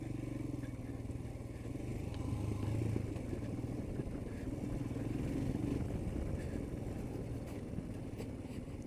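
A Royal Enfield Himalayan motorcycle rides over sandy ground near Kathmandu, Nepal, its engine a steady, close low drone that runs throughout with a slight rise in the middle and faint clattering over the top.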